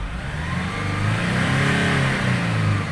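A Nissan Navara D40 pickup's engine, serviced for black smoke and low power, revs up under throttle in a steady, loud, close drone that rises slightly and holds for a few seconds.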